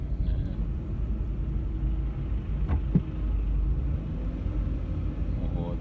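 Heavy Friday traffic in Las Vegas gives a steady low rumble of car engines and tyres, constant and fairly close, with a brief louder whoosh of a passing vehicle partway through.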